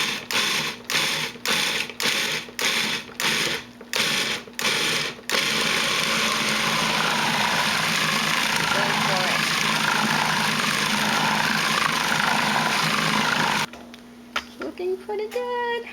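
A food processor pulses sweet potato muffin batter in a string of short, rhythmic mechanical bursts, then runs continuously with a steady motor whir before stopping, loud and close.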